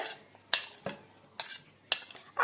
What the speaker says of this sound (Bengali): এবার আমি এই ফুডগুলা এই দুধ আর চিরার মিশ্রণটির মধ্যে সবগুলা দিয়ে দিচ্ছি আস্তে আস্তে করে